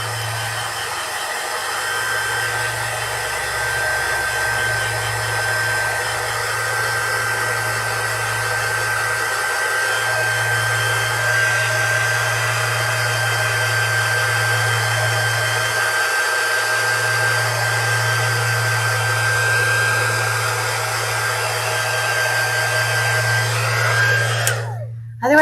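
Hair dryer blowing on fresh paint on a pumpkin, a steady close whine and rushing airflow that runs unbroken for about twenty-five seconds before a sudden click at the end, with no talking.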